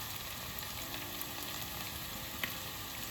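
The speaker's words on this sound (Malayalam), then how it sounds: "ഉപ്പ് ഇട്ട് കൊടുത്താൽ കുറച്ച് പെട്ടെന്ന് സവാള സോട്ടാവുന്നതാണ്." Sliced onions sauté with salt in a pan for a chicken curry, a soft, steady sizzle and crackle heard up close with occasional faint stirring taps and no talking.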